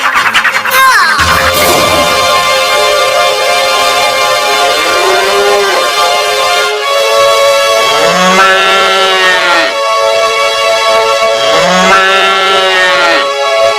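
A cow in a Telugu devotional film about Lord Venkateswara lets out several long, loud, drawn-out moos in sequence over a dense orchestral music bed.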